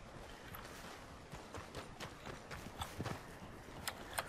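Horse hooves clip-clop in Red Dead Redemption 2, a run of light irregular hoofbeats at moderate distance over a steady game background, with no talk.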